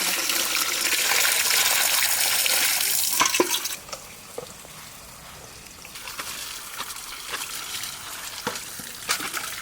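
Tap water gushes loudly into a sink while young pumpkin and Malabar spinach leaves are washed in a home kitchen. It then drops to quieter splashing and scattered drips.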